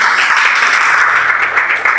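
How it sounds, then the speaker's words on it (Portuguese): Church congregation applauding during a Portuguese-language worship service, a steady, loud wash of many hands clapping that continues evenly for the whole two seconds without voices. "Você pode aplaudir o Senhor?"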